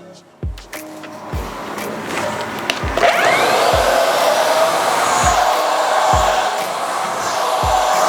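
A hair dryer blows steadily and close during an at-home flicky blow-dry, a continuous whooshing roar with a few soft knocks and handling bumps beneath it.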